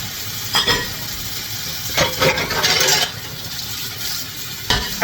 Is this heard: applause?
no